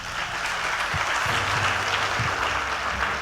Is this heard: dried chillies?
no